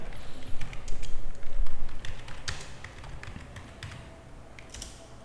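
Typing a title on a computer keyboard, a quick irregular run of close key taps that thins out toward the end, over faint background noise.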